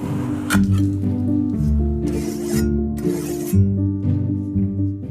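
A medieval knife made from a saw blade scrapes wet animal hide being prepared for parchment, giving several rasping strokes in bursts over a steady tonal background.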